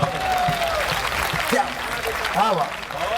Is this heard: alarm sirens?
no